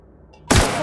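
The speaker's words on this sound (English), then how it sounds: "let's switch to, I guess, to the pistol." A single pistol shot from The Outer Worlds cracks out loud and sudden after near silence, its burst trailing off with a brief echo.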